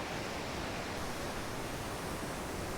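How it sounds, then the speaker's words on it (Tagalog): Estrella Falls in Palawan, a dense, steady broadband roar of falling water, loud and unbroken for the whole stretch. "Dito na tayo mismo sa may Estrella Falls."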